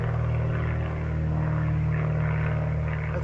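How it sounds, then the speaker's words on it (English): Float plane passing overhead with a steady droning propeller hum, fairly loud and continuous, with no voices. "That's a float plane."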